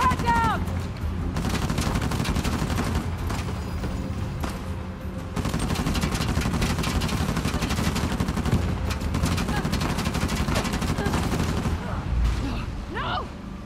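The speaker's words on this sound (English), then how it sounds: "Chloe, watch out! They've got a mounted gun!" A mounted gun fires in long sustained bursts in Uncharted: The Lost Legacy, a dense loud rattle of gunfire that continues almost unbroken, with a voice shouting briefly near the end.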